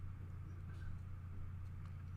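A bus engine idling at a bus station, a faint, steady low hum with a constant droning tone, unchanging and alone for the whole stretch.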